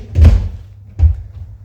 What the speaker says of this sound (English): Let's just unlock the door.